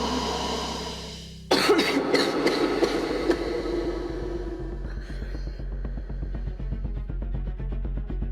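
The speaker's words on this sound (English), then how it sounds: "I'm coughing up blood." A sudden burst of harsh, close coughing, a person coughing up blood, several coughs in quick succession, followed by a steady rumbling, clattering background.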